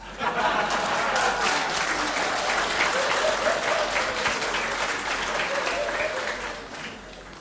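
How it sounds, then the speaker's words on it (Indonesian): An audience bursts into loud, sustained clapping at a talk on Calvinism, dense and steady for several seconds before tapering off, with a few voices mixed in. "semua tepuk tangan"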